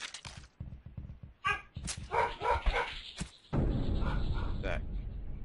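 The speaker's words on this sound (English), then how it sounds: "Barking over nothing" A dog barks in a quick run of sharp barks, followed by whimpering yips and a steady noisy background, fairly faint and mixed with a person talking.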